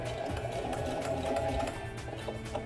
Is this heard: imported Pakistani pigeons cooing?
no